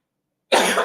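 A single harsh cough bursts out after half a second of silence, loud and close.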